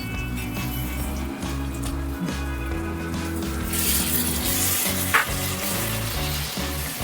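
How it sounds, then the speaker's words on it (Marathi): Onions, carrots and tomatoes sauté for tawa pulao in a pan, giving a steady, close sizzle and fry with stirring scrapes throughout, no voices. "थोडं परतून घेऊ याला 1 मिनिट"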